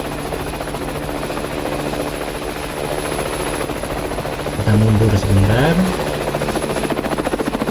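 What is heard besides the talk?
helicopter flying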